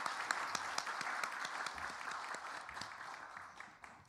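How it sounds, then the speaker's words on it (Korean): A church congregation applauds together in congratulation for a young couple, steady dense clapping that holds for several seconds at moderate distance, easing slightly toward the end, with no voices over it. "두 분 같이 한번 미리 축하의 박수를 한번 보내드립니다"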